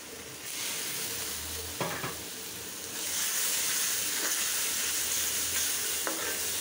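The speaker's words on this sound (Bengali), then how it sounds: "মশলাটা ভালো করে কষায় নিতে হবে" Spice paste frying in hot oil for a fish curry, a steady close sizzle that swells louder midway, with a few sharp stirring scrapes and no voices.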